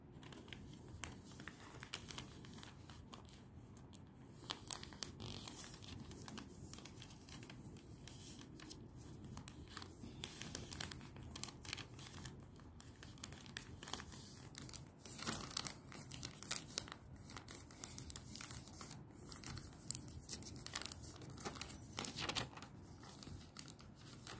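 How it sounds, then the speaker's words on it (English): A sheet of paper is folded into a paper aeroplane: quiet, close crinkling, creasing and rustling comes in irregular bursts with frequent sharp crackles over a long stretch, with no talking. "Now I'm going to make an aeroplane of this paper."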